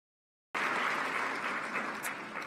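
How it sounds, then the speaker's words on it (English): Applause at a women's digital inclusion summit, breaking out abruptly after a moment of silence into a thick, even wash of clapping from a large crowd. "please give another round of applause to these brave girls."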